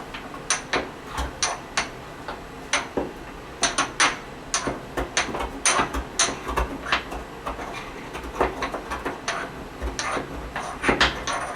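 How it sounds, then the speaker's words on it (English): Pestle grinding tablets into fine powder in a mortar during a lab session, giving a run of close, sharp, irregular scraping and clacking strokes with short pauses between bursts. "Put them in my mortar and pestle. And then I'm just going to grind them up."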